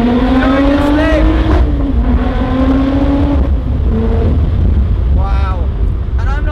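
A Lotus Exige Sport 380 engine pulls hard on the road, its rising, buzzy tone climbing steadily and easing off between gears. Someone talks over the continuous drone.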